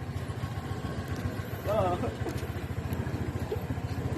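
A Honda Click version 3 motorcycle engine idles close by with a steady, rapid putter, while people talk over it throughout.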